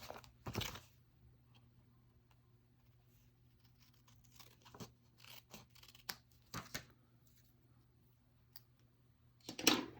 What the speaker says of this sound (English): I'm going to take my snips and just cut off this little bit that's extra on each side.